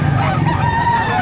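A rooster crows loudly and close by in a single drawn-out call at a chicken market behind SM City Lipa, Batangas, with a background of other fowl and crowd noise.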